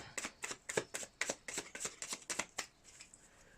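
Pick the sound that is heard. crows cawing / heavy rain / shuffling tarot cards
shuffling tarot cards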